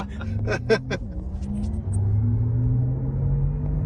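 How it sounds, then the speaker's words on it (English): Porsche Taycan electric car pulling hard in launch control at wide open throttle, a steady low drone rising in pitch through a 1-2 shift with road rumble, brief voices and an exclamation early on. "That was the smoothest gear shift of the trip. It's like they really tuned this thing for the 1-2 at wide open throttle."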